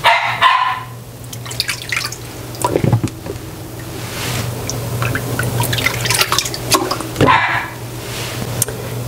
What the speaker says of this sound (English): You can hear my little dogs.